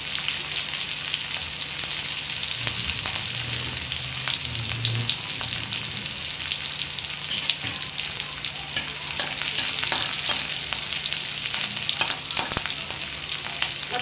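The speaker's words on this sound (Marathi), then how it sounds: "मिरची चांगली तेलात फ्राय करून घ्यायची" Green chillies fry in hot oil with a steady, dense crackling sizzle that holds for the whole stretch, broken by occasional stirring scrapes.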